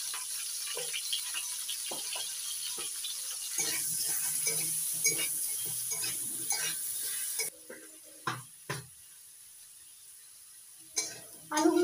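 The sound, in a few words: potatoes frying in mustard oil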